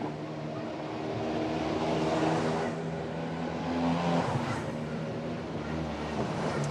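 Mitjet 2L race cars at the Magny-Cours meeting creeping slowly through the pit lane, a steady, moderately loud engine drone with low idling hum and mild swells as cars pass.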